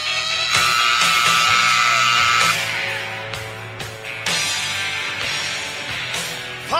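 A rodeo crowd at a saddle bronc ride in Pollockville, Alberta, screams and cheers in a loud, sustained roar with shrill yells rising and falling across several seconds.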